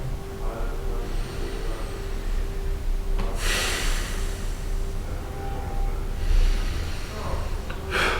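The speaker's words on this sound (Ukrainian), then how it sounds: "глибоке дихання. Через ніс." Deep breaths drawn through the nose during a hatha yoga session, two long noisy inhalation-exhalation bursts standing out over a steady low room hum, fairly close and clear with no talking.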